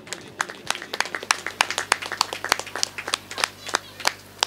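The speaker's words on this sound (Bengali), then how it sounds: "একটু জোরে হাততালি শ্রী রাজু পালের জন্য।" An audience at a ceremony honouring clay artist Raju Pal claps in a lively, uneven patter of sharp individual hand claps, close and fairly loud, over a low steady hum.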